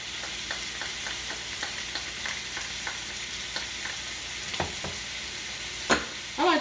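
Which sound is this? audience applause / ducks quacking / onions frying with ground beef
onions frying with ground beef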